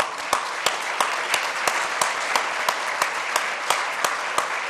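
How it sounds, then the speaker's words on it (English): Applause at a cultural gardens gala in Cleveland, broad steady clapping from the audience with a few sharp, evenly spaced louder claps standing out near the microphone, no speech. "Give yourself that have been dedicated a round of applause"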